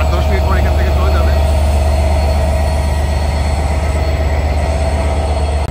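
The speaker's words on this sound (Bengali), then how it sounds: "দেখতো কি পরিমাণ আওয়াজ করতেছে, আর লোকোমোটিভ লাগানো শেষ" A diesel locomotive, just coupled to the Madhumati Express's LHB coaches, idles at Ishwardi Junction in Bangladesh. It makes a loud, constant, close engine drone with a high whine over a deep rumble, and voices are heard in the background.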